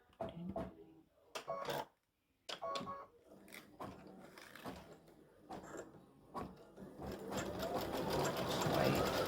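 An embroidery machine stitching an appliqué St Patrick's Day gnome design makes rapid mechanical whirring and clicking, stopping and restarting, then running steadily louder toward the end; a voice is faintly heard at times.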